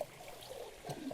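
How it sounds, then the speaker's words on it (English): Water pours and trickles out of a pool cleaning robot as it drains, a soft, close splashing dribble lasting about a second. "I'll let the water drain out."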